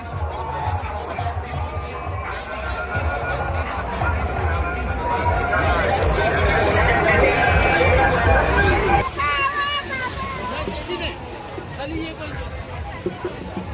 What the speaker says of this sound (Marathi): आज रात्री पण गर्दी बघ कशी एकदम